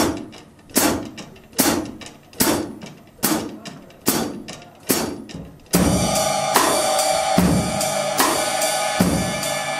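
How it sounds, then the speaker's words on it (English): Drum kit hi-hat struck in steady quarter notes, crisp evenly spaced hits alone at first, then joined by the rest of the kit playing a fuller groove, close and loud. "I'm going to play quarter notes with the hi-hat"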